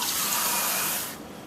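Water pours steadily into pholourie batter in a mixing bowl, a bright continuous splashing stream lasting about a second before stopping abruptly.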